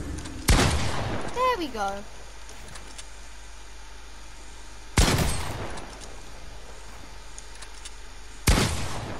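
Three loud bursts of video-game gunfire crack out at even intervals, each a sharp blast fading into a short tail, with a brief spoken line and a rising game sound between the first two.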